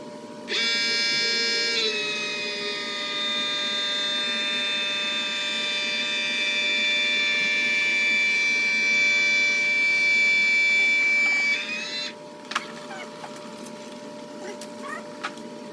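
Electric fluid pump filling the differential of an all-wheel-drive BMW F30 during a driveline fluid flush, a steady high whine that starts abruptly, holds for about eleven seconds, then cuts off, followed by a few faint clicks and handling noises.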